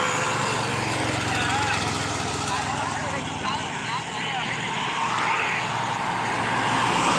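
A motor vehicle comes up along the road during a Palani pilgrimage walk near Dindigul, its engine a steady, loud drone throughout, with voices and chanting mixed in.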